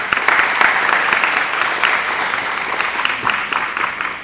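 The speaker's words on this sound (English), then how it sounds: "A round of applause for them, please." An event audience claps steadily for the sponsors, a dense, sustained round of applause with sharp individual claps standing out over the crowd, and no voices on top.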